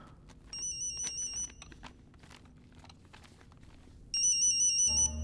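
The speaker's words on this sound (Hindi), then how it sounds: "ये किसका फोन है?" A mobile phone ringtone rings in two loud electronic bursts, one early and one near the end, separated by a quieter stretch of faint background noise.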